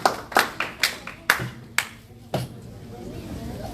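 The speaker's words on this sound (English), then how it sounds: "A round of applause for you" A few people clap sparsely at a town hall meeting in Brisbane, with about eight distinct, close hand claps spaced irregularly before fading into quiet room noise.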